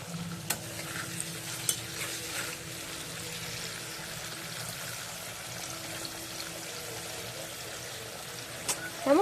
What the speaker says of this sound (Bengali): আলুটা ভাজছি আলুটা ভাজতে ভাজতে